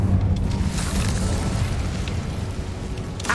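An Incendio fire spell blast in the video game Hogwarts Legacy, a loud deep rumbling whoosh of flame that sustains for several seconds with a roaring low boom, no talking.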